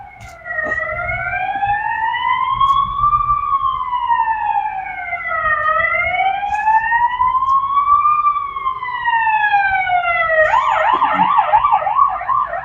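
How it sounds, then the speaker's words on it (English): An ambulance siren wails, rising and falling in long sweeps, then switches to a rapid yelp near the end, loud and steady over low traffic rumble. "ambulance"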